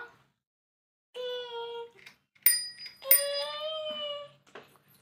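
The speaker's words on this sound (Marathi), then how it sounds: "बेल वाजवा, ट्रिंग ट्रिंग वाजवा, ट्रिंग ट्रिंग, ट्रिंग ट्रिंग वाजव।" Bright bicycle bell rings several times in separate bursts, clear and close, with short quiet gaps between the trills.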